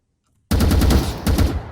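A loud burst of rapid automatic gunfire in CS:GO with Valorant weapon skins starts abruptly after a short silence, continuing in a fast stuttering rhythm with a brief break.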